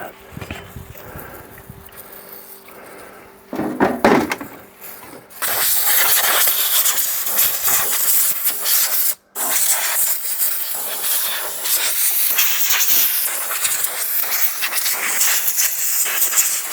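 Brake cleaner sprayed from an aerosol can onto a Locomobile engine part, a loud sustained hiss that starts after a few quieter seconds of clattering and continues with a brief break, close to the mic.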